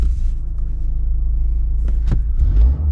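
A 2025 Toyota GR Corolla, a small rally-style car, drives along with a deep, loud engine rumble heard from inside the cabin, rising briefly near the end.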